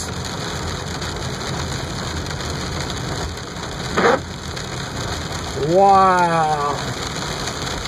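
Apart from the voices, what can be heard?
hail storm falling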